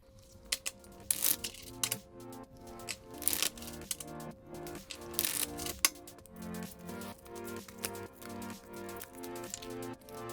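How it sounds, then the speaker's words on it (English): Tarot cards are shuffled by hand in a series of quick riffling, clicking bursts, close and fairly crisp, with short pauses between them. "let's get to shuffling and then let's see what the cards have to say for this week"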